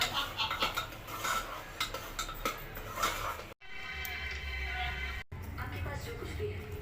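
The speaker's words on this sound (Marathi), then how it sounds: "हे अशा प्रकारे सगळं हलवून घ्यायचं" Puran lentil filling for Maharashtrian puran poli being stirred in a pot, with metal utensils clinking and scraping in irregular bursts while a voice speaks over parts of it.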